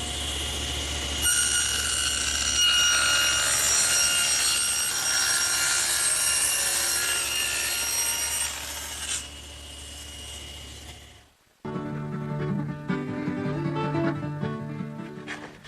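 A table saw rips a tongue along the edge of a wooden board in a loud, steady, rasping whine that runs for about nine seconds, then fades as the cut ends and leaves a quieter clattering tail.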